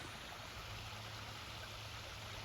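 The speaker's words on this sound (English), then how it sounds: "beautiful little waterfall" A small waterfall on the Buffalo River Trail near Camp Ozark rushes and splashes continuously at low volume, a steady outdoor trickling with no voices.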